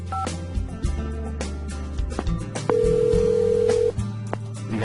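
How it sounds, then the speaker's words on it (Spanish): A telephone on a landline network produces a steady electronic tone that holds for about a second amid clicks and background electronic music, the line signal sitting clearly above the mix. "El tono de marcado nos confirma que el número marcado se transmite."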